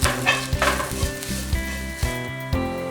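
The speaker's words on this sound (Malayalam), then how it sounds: "ഇതിൻ്റെ പച്ചമണം മാറുന്ന വരെ സോട്ട് ചെയ്യാം." Chili powder, pepper powder and chicken masala sautéing in a hot pan, a close, lively sizzle broken by rhythmic scraping strokes of a spoon against the pan about every half second.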